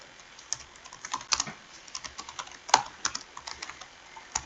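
Computer keyboard typing at close range, with scattered key taps in an uneven rhythm and a few sharper, louder strikes, heard alone with no voices.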